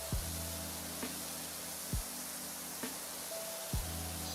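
Steady broadband hiss of a pressure washer spraying down a building in the PowerWash Simulator video game, continuous throughout with a few brief sharp clicks at regular intervals, no talking.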